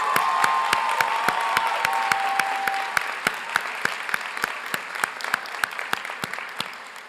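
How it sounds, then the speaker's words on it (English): An audience at a college commencement ceremony applauds, loud and full at first, then thinning out to scattered individual claps. "Let's give them a nice round of applause."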